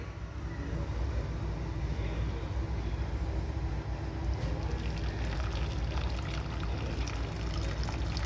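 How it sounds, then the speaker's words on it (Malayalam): Hot water poured into a mustard-tempered fish curry makes a continuous rushing, bubbling pour that runs evenly and fairly loud for the whole stretch. "അപ്പോൾ തക്കാളിക്ക് ഇടാതെ നമുക്ക് അല്പം ചൂടുവെള്ളം ഇപ്പോൾ ഒഴിച്ചു കൊടുക്കാം"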